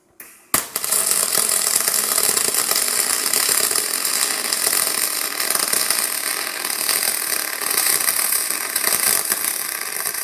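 A YesWelder DP200 double pulse MIG welder laying a bead on aluminum gives a loud, close, continuous crackling buzz that starts abruptly and runs steadily for about ten seconds, with no talk.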